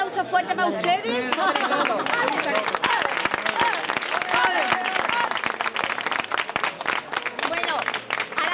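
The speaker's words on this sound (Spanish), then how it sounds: "un aplauso fuerte para ustedes" A street audience at the 2014 Cádiz carnival applauds a chirigota performance with dense, sustained clapping, mixed with crowd chatter and voices throughout.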